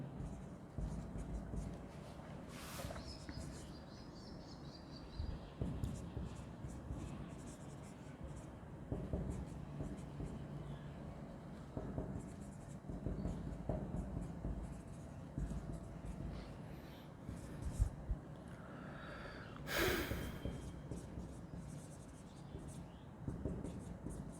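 A pen scratches across paper in steady, irregular strokes, close and fairly quiet, while a person talks throughout.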